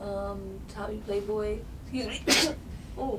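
A single sharp sneeze bursts out in the middle of casual talk, close and loud against the surrounding speech.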